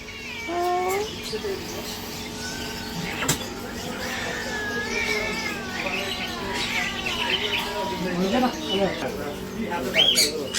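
Birds call in a pet shop in Kuwait: a busy mix of chirps, warbles and wavering meow-like cries at close to middle distance over a steady indoor hum, with a sharper burst of calls at the end.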